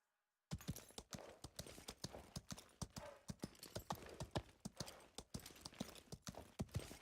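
A horse's hooves clip-clop in steady rhythm in the video game Highguard, starting abruptly after a brief silence and continuing as an even, close walking gait with crisp individual hoof strikes.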